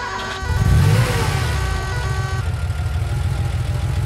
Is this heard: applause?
no